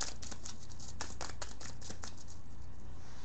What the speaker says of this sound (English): I'll just do a little more shuffling to show that I didn't cheat or anything.